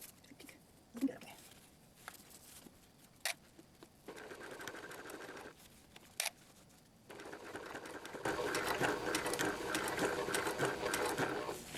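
Sewing machine stitching along a tote bag strap with a narrow presser foot: a few isolated clicks at first, then short bursts of whirring stitching that build into a sustained run, with quiet background sounds.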